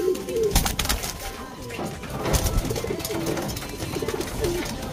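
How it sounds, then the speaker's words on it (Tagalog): A pigeon coos repeatedly in low, rolling calls close by, mixed with handling noises and bumps, while people talk over it. "Kunin ko muna ibon"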